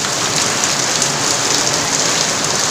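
A downpour of heavy rain keeps up a constant, loud wash of drumming drops on surfaces from start to end, without any talking.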